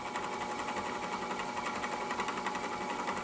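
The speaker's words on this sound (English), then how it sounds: "We just hold it here, sandpaper, and we'll grind that out." Sandpaper grinding out the inner lip of a handmade coin ring, a steady, even rasping whir that holds without break.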